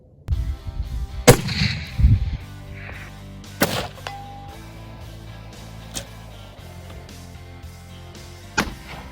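Hunting rifle shots ring out at a range, a couple of loud sharp cracks early on followed by fainter distant impact knocks spaced a few seconds apart.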